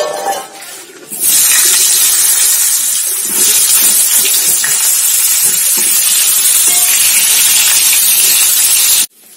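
Potatoes tipped into hot oil already seasoned with cumin and bay leaf, for a Bengali tangra fish dish: a sudden, loud, steady sizzle bursts in and hisses evenly for several seconds, then cuts off abruptly.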